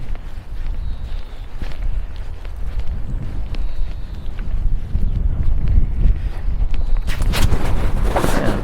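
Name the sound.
wind blowing outdoors in a village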